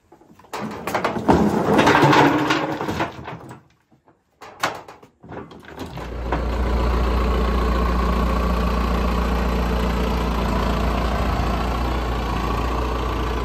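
After some clunks and a door-like thud, a tractor's heavy diesel engine settles into a steady, low rumbling idle that continues unbroken.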